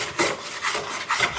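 Hand plane strokes along a wooden seat board being glued up, three broad rasping swishes at a steady rhythm, close and moderately loud with no talking.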